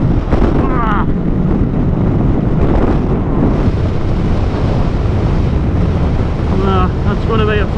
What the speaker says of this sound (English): It's quite windy out today as well.